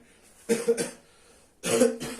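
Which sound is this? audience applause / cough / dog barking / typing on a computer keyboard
cough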